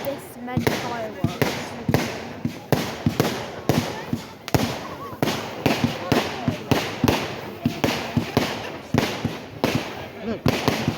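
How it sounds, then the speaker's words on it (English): Bonfire night fireworks bang and crackle in a rapid, irregular barrage of sharp explosions, loud and continuous, with people talking faintly amid the bursts. "I can't afford to this many fireworks."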